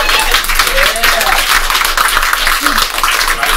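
An audience at a game show claps for the contestants in a dense, continuous wash of applause, with some talk mixed in.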